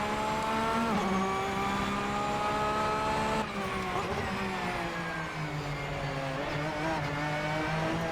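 Porsche sports car accelerating hard out of braking with slight wheel slip, engine revving loud and close with rising pitch, a brief gear change midway, then pulling strongly on.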